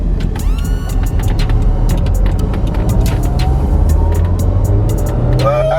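Toyota AW11 MR2 non-turbo car accelerating, its steady engine note rising continuously and loudly throughout, heard from inside or close by with no talking over it.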